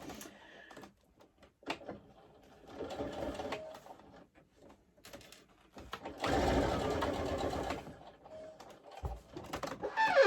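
A sewing machine fitted with a zipper foot stitches a plaid satchel bag, running in short bursts and then one longer steady run of about two seconds, close and moderately loud, with handling noises between runs.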